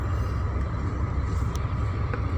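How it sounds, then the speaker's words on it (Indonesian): A Shacman F3000 truck's exhaust brake gives a low, steady rumbling drone, moderately loud and close, sustained for the whole moment without any talking. "exhaust brake"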